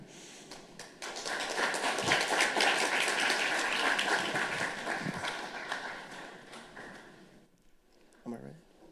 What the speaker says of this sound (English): Can we get another round of applause for Billy?